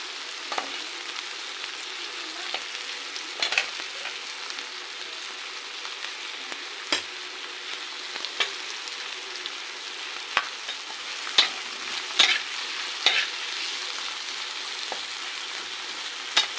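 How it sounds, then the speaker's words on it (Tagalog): Tomatoes sizzling and frying in a hot pan, a continuous crackle with occasional sharper pops and stirring clicks, close by and with no talking. "Luto-lutuin ng konti ang kamatis. Iprito-prito."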